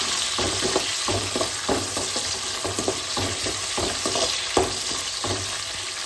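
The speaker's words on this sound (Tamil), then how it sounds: "இது எல்லாமே எண்ணெயில் நல்லா வதங்கணும்." Garlic, green chillies and curry leaves sautéing in hot oil for a Madurai-style goat blood fry, a loud, close sizzle with a rhythmic series of spatula scrapes and stirring strokes running throughout.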